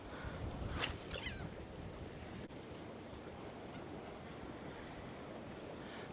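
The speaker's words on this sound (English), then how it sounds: "The wind's coming this way." Steady ocean surf and gusting wind at an early morning fishing pier on St. Simons Island, a continuous broad rush with wind buffeting the microphone.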